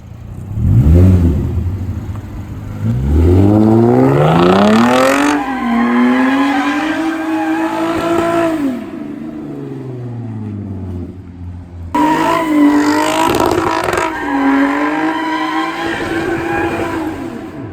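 A BMW 335is doing donuts: the engine revs up and down in long rising and falling sweeps while tires squeal and skid, loud and close, with a brief drop near the middle before the revving resumes.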